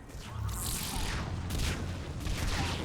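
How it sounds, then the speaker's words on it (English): Dense, sustained gunfire and explosive booms from the video game Battlefield fill the whole stretch, a loud continuous barrage of shots and blasts with crackling bursts layered on top. "Can I shoot you through a rock?"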